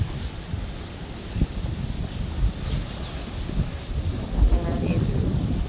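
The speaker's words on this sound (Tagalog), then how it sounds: "Very windy." Strong wind buffets the microphone outdoors, producing a continuous low rumble with gusty surges that swell louder toward the end.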